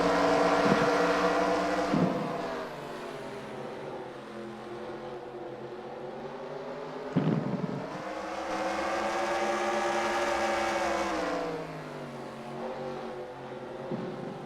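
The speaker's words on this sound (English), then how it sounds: "Feature racing here at Stafford Motor Speedway with the 110 Nation Racing Experience is underway." Race cars at Stafford Motor Speedway during a feature race, engines droning with steady harmonic whine and swelling as cars pass, a few sharper surges near the start and around seven seconds, with no talk.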